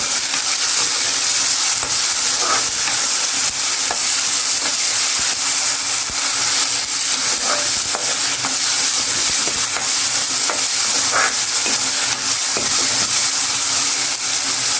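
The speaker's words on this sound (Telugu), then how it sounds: "నెక్స్ట్ అల్లం వెల్లుల్లి పేస్ట్ 1 స్పూన్ యాడ్ చేసుకోవాలి. మొత్తం ఫ్రై చేసుకోవాలి." Ginger garlic paste frying in a pan for a spicy Rayalaseema chicken fry, a loud continuous sizzle with intermittent stirring scrapes throughout.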